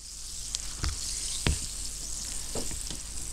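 Steady close fizzing hiss from apples fermenting in kvass made from birch sap, with a few soft pops and bubbling clicks scattered through it.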